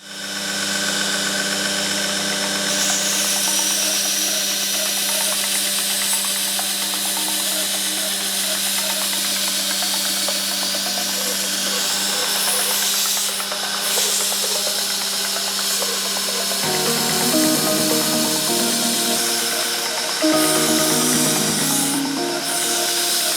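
Power grinder running steadily on a notched Hanwei Godfred Viking sword blade, a loud continuous whine with hissing broadband noise that shifts in tone as the grinding pressure changes partway through.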